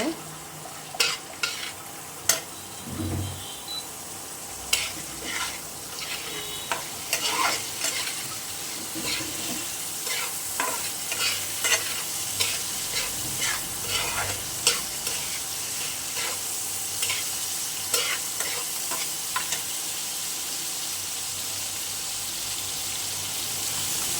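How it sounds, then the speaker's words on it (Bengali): A hilsa fish head fries in a pan with a steady close sizzle that runs throughout, broken by repeated scraping stirs and clatters of a spatula, with no one talking. "মাছটা একটু ভালোভাবে ভেজে নিব।"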